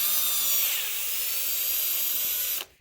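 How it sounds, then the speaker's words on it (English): A handheld power drill bores a hole through a plastic garden seeder seed plate, a steady high-pitched whine that holds for under three seconds before cutting off abruptly. "Take your drill bit and your drill."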